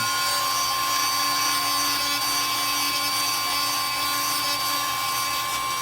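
Power tool grinding a half-inch bevel around a Currie AntiRock sway bar for a Jeep TJ/LJ, a loud, steady high-pitched whine with constant grinding noise throughout.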